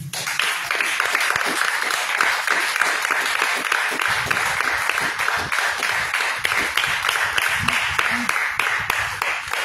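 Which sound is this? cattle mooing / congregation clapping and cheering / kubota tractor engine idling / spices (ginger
congregation clapping and cheering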